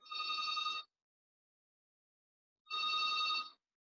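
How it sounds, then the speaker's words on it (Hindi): A mobile phone rings during an accounts class, two separate bright electronic ring bursts of under a second each, split by a pause of silence. "हाँ मेरा ही फोन आ रहा था"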